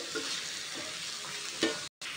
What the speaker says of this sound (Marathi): आणि पुन्हा थोडंसं मिक्स करून घेऊ